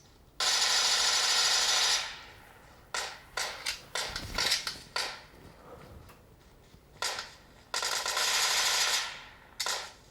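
Machine gun fire from a mobile shooter game played on a Xiaomi Redmi 9A phone, with long sustained bursts at the start and end and short choppy volleys in between, loud and without talk.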